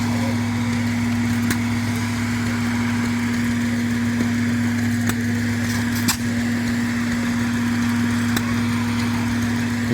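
Several antique stationary engines, including a Hercules 12 horsepower, run at a craft show with a steady low hum and sharp intermittent pops and backfires scattered irregularly over the drone.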